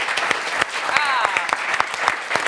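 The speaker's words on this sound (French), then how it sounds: "Vous pouvez les applaudir." A studio audience applauds on a live French football television show, loud sharp claps that are individually distinct, with a brief whistle or cheer partway through.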